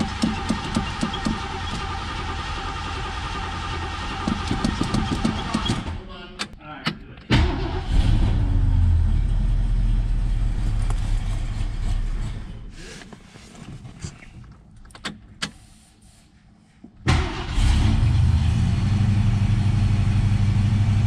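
A 1969 Mercury Cougar engine, unrun for 20 years, cranks and sputters, cutting in and out, then catches and runs with a steady low rumble, while people talk nearby.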